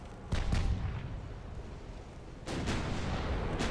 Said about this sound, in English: These 10-inch guns are doing some good work.